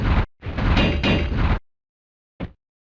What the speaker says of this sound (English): let's do this stupid door thing again